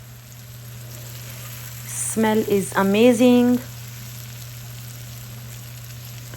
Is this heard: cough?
no